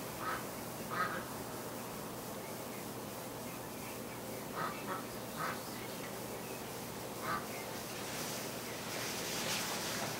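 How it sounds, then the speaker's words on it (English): Frightened ducks huddled quietly in a pen corner with a fox nearby give a few soft, scattered quacks over a steady hiss, faint and spaced apart. "All the ducks are just freaked out at this end"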